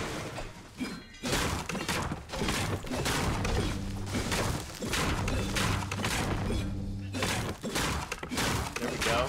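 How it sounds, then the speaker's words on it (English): Repeated cracking and splintering as wood is smashed in the video game Fortnite, a steady run of loud breaking hits with a voice talking over parts of it. "I'm just smashing wood."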